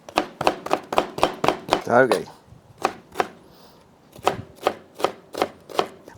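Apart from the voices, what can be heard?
knife chopping pepper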